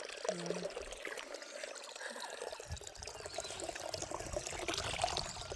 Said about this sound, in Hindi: और मैं गोबर निकाल के आई तो यहाँ पर हाथ धो रही है।